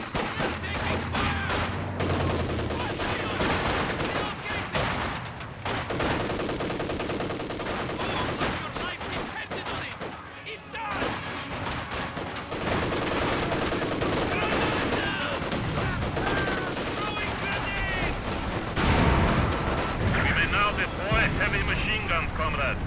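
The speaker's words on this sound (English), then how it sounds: "They're taking fire!" Battlefield gunfire from Company of Heroes 2, a Soviet Airborne 4vs4 match: dense continuous volleys and rapid machine-gun bursts, with booming blasts, run under game voice lines for nearly the whole stretch.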